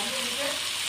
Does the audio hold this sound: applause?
no